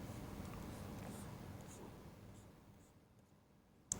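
A benzene ring structure being drawn by hand, giving faint, close scratchy strokes of a pen or marker for a few seconds that end in a small sharp tap.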